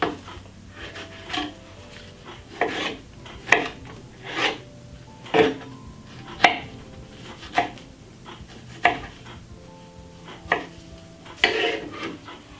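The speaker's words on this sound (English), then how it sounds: "So you're gonna cut up 4 medium-sized strawberry" A knife slices through four medium-sized strawberries, each cut a crisp close tap on the board, repeating in a steady rhythm about once a second with no talking.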